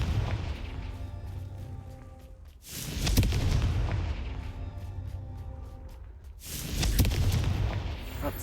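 Confringo fire spells explode in the game Hogwarts Legacy, with two heavy booming blasts a few seconds apart, each rolling away into a rumbling tail.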